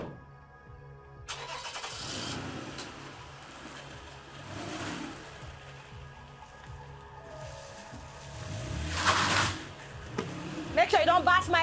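A car engine cranks, catches and runs, its low rumble steady beneath overlapping voices and outdoor noise, with a louder rev or burst near the end.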